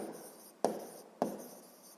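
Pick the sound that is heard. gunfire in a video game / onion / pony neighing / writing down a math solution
writing down a math solution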